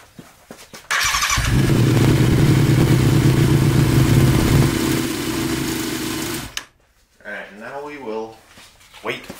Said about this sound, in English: We'll start up the bike. Going to let it run for a few minutes.